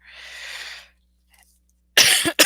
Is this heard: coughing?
yes